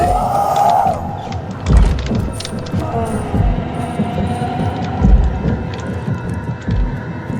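Heartbeat sound in the Amnesia horror game The Atonement custom story, a steady low throbbing pulse repeating about every 1.6 seconds beneath a continuous droning ambient hum.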